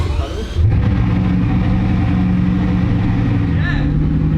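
A Bugatti Chiron's W16 engine cranks and fires up, then settles into a loud, steady running drone that continues without a break.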